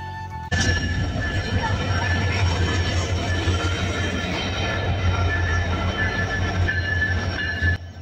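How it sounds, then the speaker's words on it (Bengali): The Sundarban Express passenger train rolls into Rajbari railway station loudly and close, wheels rumbling and squealing steadily, with a faint ringing bell above before it suddenly cuts off. "টং টং বেল বাজিয়ে আমাদের সুন্দরবন এক্সপ্রেস ট্রেনটি কিন্তু প্রায় 1 ঘন্টা বিলম্ব নিয়ে রাজবাড়ী রেল স্টেশনে প্রবেশ করল"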